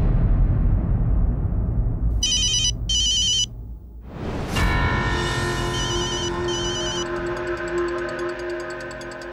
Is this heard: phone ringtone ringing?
yes